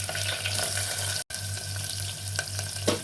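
Garlic and chopped onions frying in a pan, a strong continuous sizzle with a faint stirring scrape and a momentary break, no talking.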